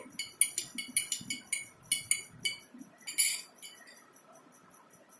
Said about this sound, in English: Now I take the next, that is salt, which I'm just going to try to stir in this water what I have taken.